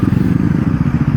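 A 2025 Bajaj Pulsar NS400 motorcycle's engine roars loud and close at high rpm in third gear near its top speed, a steady pulsing drone with wind rush throughout.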